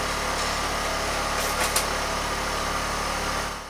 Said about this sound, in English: So the compressor is indeed relatively quiet.